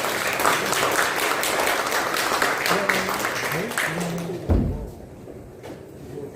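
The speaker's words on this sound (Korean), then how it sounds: "박수 부탁드립니다" Audience applause at a residents' briefing for the Yeokdong public redevelopment project in Gwangju, steady and dense for about four seconds before a loud thump and a quieter tail, with some voices mixed in.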